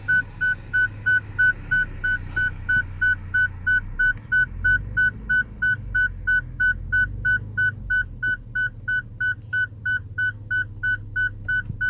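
Collision warning alert in a 2018 Honda Pilot, a steady run of evenly spaced high electronic beeps repeating for the whole stretch over low cabin road rumble.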